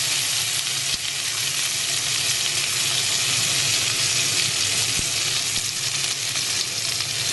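Food fries loudly in a pan over high flames, a dense continuous sizzle close up with occasional faint clanks of the pan and no speech.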